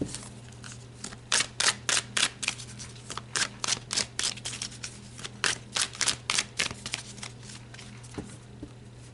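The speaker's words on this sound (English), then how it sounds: "let's pull a card to see what your spirit guides would like to add" Tarot cards are shuffled by hand in a run of quick, crisp riffles and slaps that come in rhythmic bursts, close and clear over a faint steady hum, with no talking.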